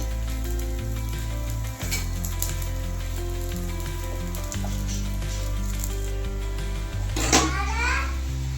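Aloo cheese paratha roasting on a pan with ghee or butter gives a continuous, moderate sizzle and hiss, with a faint background hum and a brief distant voice near the end.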